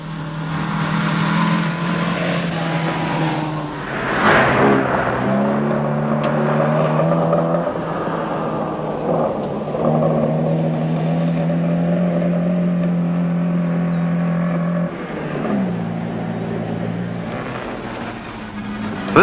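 A BMW rally car drives a 1970s rally stage beside a lake, its engine droning loud and steady with rising and falling revs over about nineteen seconds.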